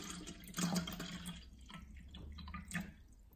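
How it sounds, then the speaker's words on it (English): Bottled infant water pours into a small cup in a quiet, close trickle with faint splashes and drips over a few seconds. "Let's pour some water in."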